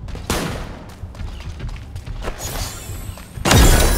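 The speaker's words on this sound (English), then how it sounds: "Shots heard!" Gunfire in a first-person shooter game, with a sharp shot near the start, scattered thuds and rattling bursts through the middle, and a loud, heavy blast at the end, all fairly close and with no talking over them.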